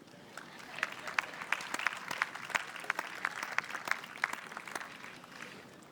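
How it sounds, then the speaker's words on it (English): An audience applauds the mayor of Mission Viejo at a wheelchair tennis doubles masters finals, dense sustained clapping with many individual sharp claps near and far for several seconds. "This is appropriate to clap."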